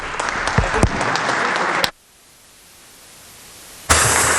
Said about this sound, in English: we ought to give him a little round of applause